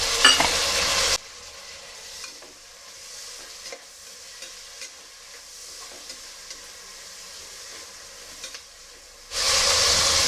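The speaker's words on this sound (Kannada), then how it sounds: "ನಾನು ಇದನ್ನು ಈರುಳ್ಳಿನ ಫ್ರೈ ಮಾಡ್ಕೊತಾ ಇದ್ದೀನಿ" Onion and tomato frying in a pan for tempering in mushroom pulao, a bright sizzle that drops to a soft crackle with occasional stirring clicks, then swells loud again at the end; no talk.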